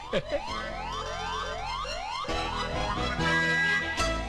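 An ambulance siren wails, sweeping up and down repeatedly, steady and fairly loud, with a musical score playing underneath.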